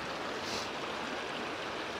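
Clear mountain river rushing over stones, a steady broadband wash of water that holds even and close throughout with no pauses.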